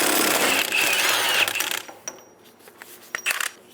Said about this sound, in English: Using a 34mm socket, we're going to remove the nut for the Pitman arm